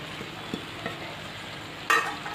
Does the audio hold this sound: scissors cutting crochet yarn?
no